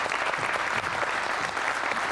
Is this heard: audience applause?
yes